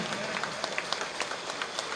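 Audience applause at a book launch for an astrology event, a fairly faint spread of clapping hands with distinct sharp claps standing out, steady across the short stretch.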